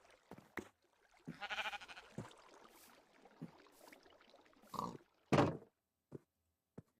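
A sheep bleats in the Minecraft video game. A few short, nasal bleats and grunts are spaced out between sharp clicks, with quiet gaps in between.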